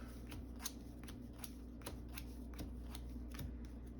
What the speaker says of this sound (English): think about it as I shuffle the encounter deck